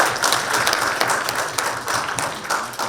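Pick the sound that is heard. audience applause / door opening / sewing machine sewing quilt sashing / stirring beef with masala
audience applause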